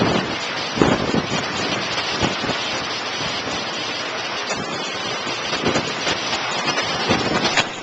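Tropical storm Claudette lashing palm trees: a constant roar of wind and heavy rain buffeting the microphone, with stronger gusts rising at intervals and no voices.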